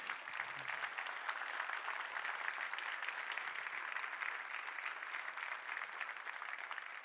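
A conference audience at the closing plenary of the BC Salmon Recovery & Resilience Conference applauds, a dense, even patter of many hands clapping that holds steady for several seconds, heard from a distance.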